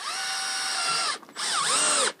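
A power drill drives screws into a replacement window frame: two close, high whirring bursts with a short gap, the second rising and dipping in pitch as the screw tightens.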